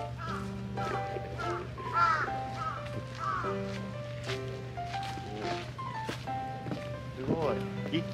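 Loud caws from a large crow repeat several times, close by, at a seaside beach in Inage Seaside Park, Chiba, Japan, over a steady low hum and background voices.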